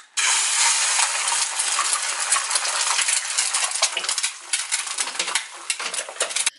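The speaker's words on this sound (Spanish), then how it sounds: "debes echarle huevos y meter tu huevo en la sartén sin" An egg drops into a hot cast iron pan and erupts into loud, close, crackling sizzle that starts abruptly and keeps spitting and popping throughout, with no talk.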